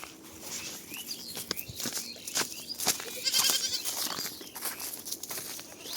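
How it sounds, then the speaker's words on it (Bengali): Goats bleat while walking ahead along a narrow village path, several short, fairly close calls rising over light footsteps and soft outdoor ambience. "ছাগলগুলো যাচ্ছে সামনে,"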